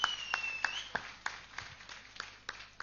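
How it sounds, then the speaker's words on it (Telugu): Scattered audience clapping at a film release event, a series of sharp, irregular claps that are fairly faint over a low background hum, with no talking. "సంగీత్ బాబు గారికి గట్టిగా క్లాప్స్ కూడా."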